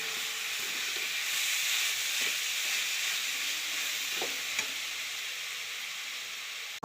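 Coconut filling mixed with molasses is stirred in a hot pan for patishapta, a soft steady sizzle with a few faint scrapes of the spoon against the pan, close up and without voices.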